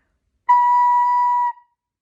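A single clear, soft recorder note, a B, is held steadily for about a second, then stops cleanly in silence.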